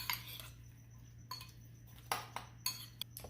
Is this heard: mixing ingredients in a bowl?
yes